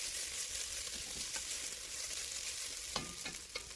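Browning meat and tomato paste stirred in a pot give a steady low sizzle, with a few faint spoon scrapes near the end.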